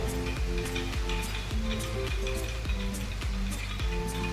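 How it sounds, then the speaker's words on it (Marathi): Heavy rain pours steadily in the background, a continuous hiss that stays partly masked by louder rhythmic music with a thumping beat for the whole stretch. "पाऊस खूप जोरात पडतो आहे तर त्यामुळे बॅकग्राऊंडला पावसाचा आवाज येऊ राहिला आहे"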